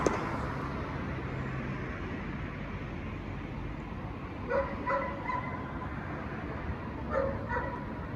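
A dog barks a few times in the distance, faint sharp yaps over a steady quiet background hum near a hotel in Figueres, Spain.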